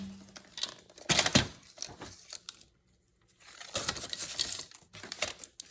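Paper being trimmed on a paper folio, quiet crinkling and snipping rustles in two bursts separated by a short silent pause, close and soft with no voices.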